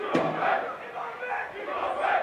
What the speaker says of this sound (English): We have a little cheering going on from the Mason crowd, if you can hear that.